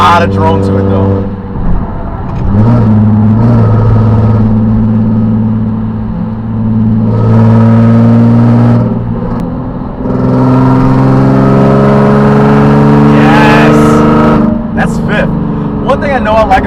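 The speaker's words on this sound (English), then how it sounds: "This thing's got a lot of drone to it though." Steady low engine drone from a 2009 Nissan 370Z while driving, a continuous cabin hum with harmonics rising and falling through gear changes, with a person speaking over it throughout.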